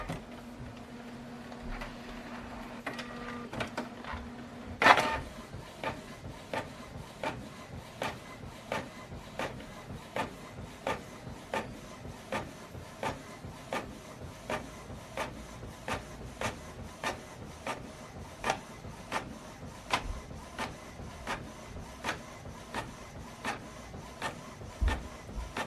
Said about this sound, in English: So now this document is going to print out from this printer